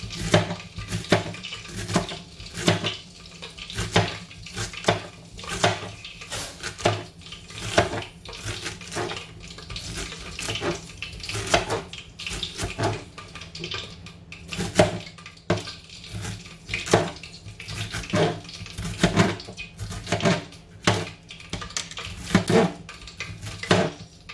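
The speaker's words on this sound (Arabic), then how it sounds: "هنايا نبدا نقطع لا كورجيت تاعي هاد الرفاف" Knife cutting courgette (zucchini) on a board, a long series of sharp, evenly spaced chopping taps, close and fairly loud, with no talk.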